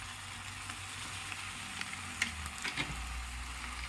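Spices frying in a hot pan for tomato sambar, with a steady soft sizzle, a few light crackles and stirring taps near the end.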